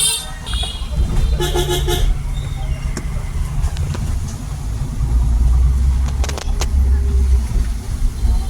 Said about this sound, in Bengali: পুটুদা গাড়ি চালাচ্ছে